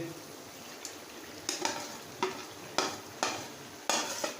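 Taro pieces are stirred into a frying chicken masala, giving a soft continuous sizzle broken by five or six scraping stirs of a spoon against the pan, close and fairly quiet.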